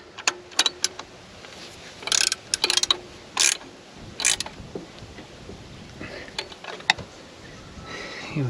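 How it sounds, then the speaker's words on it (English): A wrench ratchets while tightening the alternator pulley on an 80 Series Toyota Land Cruiser, giving bursts of rapid metallic clicking with short pauses and some clinks of tools, close and fairly clear. "And we tighten up the pulley."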